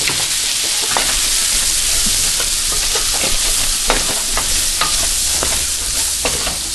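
Paprika and onions sauteing in a metal pan, a steady close sizzle and hiss with scattered scrapes and taps from stirring, no talk.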